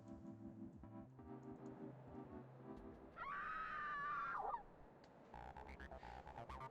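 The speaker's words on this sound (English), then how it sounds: "I need to hear these screams because they're fucking great." A woman's scream from the Snoot Game mod Snooty Doo rises mid-clip as one sustained, wavering, high-pitched cry lasting over a second, set against quieter background game audio.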